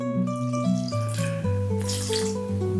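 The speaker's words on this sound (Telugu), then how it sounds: "కలిపి ఇందులో కొంచెం వాటర్ యాడ్ చేసుకుందాం" Water pours steadily from a vessel into a prawn curry gravy, a continuous close gurgling stream whose pitch shifts as the level rises, with no talking.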